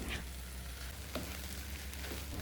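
Noni leaves and shrimp, with added water, fry in a pan while being stirred, giving a steady close sizzle with a few faint scraping clicks throughout.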